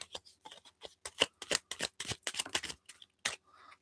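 Tarot cards being shuffled by hand: a steady run of quick, crisp riffling flicks and slaps, close and fairly loud, with no voice over them.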